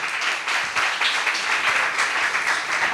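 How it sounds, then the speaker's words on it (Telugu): Congregation clapping loudly at a Sunday church service, a dense, steady wash of many hands applauding together without a break, close and sustained throughout. "చప్పట్లు కొట్టండి గట్టిగా"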